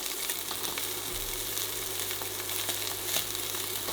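A steak sizzles and fries in a hot pan, a dense, continuous hiss with scattered spitting pops throughout, close up and steady.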